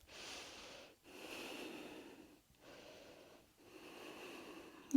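Slow, deep breaths are drawn through the nose during a beginner-to-intermediate vinyasa yoga session, soft and close, in several long airy cycles separated by brief pauses.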